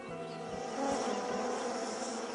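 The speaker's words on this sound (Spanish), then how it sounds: "las abejas exploradoras recorren un terreno y cuando encuentran las flores acertadas, informan a las demás abejas" Bees hum in a soft, continuous buzz that rises slightly partway through, with no talking.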